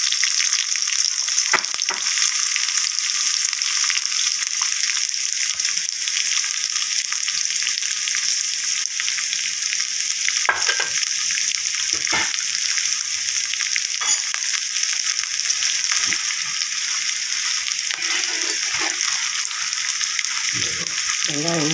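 Sliced large onions and green chillies frying with crackled cumin and curry leaves in a pan for a coconut milk jackfruit-seed gravy, a loud, steady hiss and sizzle with occasional stirring knocks and faint voice.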